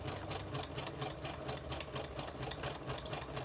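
A sewing machine runs steadily up close, its needle stitching a zigzag over fabric in a quick, even mechanical rhythm with no talking.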